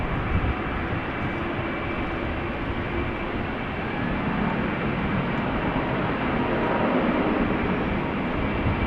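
A Cargolux cargo plane passes at Amsterdam Schiphol Airport with a continuous, loud broadband jet-engine roar that holds steady and never fades, and no one speaks over it.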